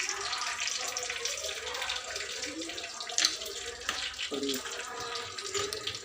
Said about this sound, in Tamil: ஜீரகம் பொரிஞ்சிச்சு பாருங்கள்.